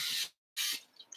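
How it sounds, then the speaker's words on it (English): Cooking oil spray hisses into a bowl before marshmallow fluff goes in. Two short, close bursts are split by a brief silence, and the second trails off into faint rustling. "I'm gonna actually spray the bowl too because it's marshmallow fluff."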